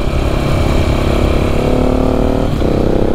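The engine of a 690 motorcycle drones loudly and steadily while it is ridden, with a constant throbbing mid-range hum. Near the end the pitch dips briefly and then climbs again as the revs change.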